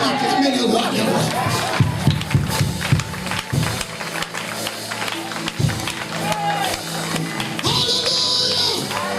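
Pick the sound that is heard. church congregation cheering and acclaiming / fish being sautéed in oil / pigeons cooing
church congregation cheering and acclaiming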